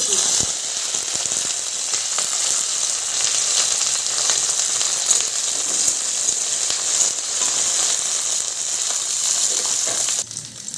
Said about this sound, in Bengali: ফ্রাইড রাইসের সবজি ভাজার জন্য কড়াইয়ে দিয়ে দিচ্ছি সাদা তেল